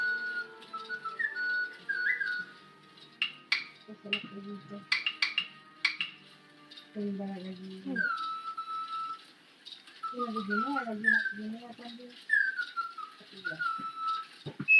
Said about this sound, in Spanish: no pude dejar fuera a estos pajarillos autómatas, también creados por François Junod